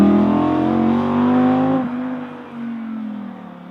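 A powerful Audi R8 GT engine revs hard and climbs through a gear, briefly dips at a shift, then pulls again, loud and close with no voices.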